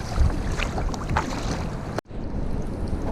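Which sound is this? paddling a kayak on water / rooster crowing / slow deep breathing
paddling a kayak on water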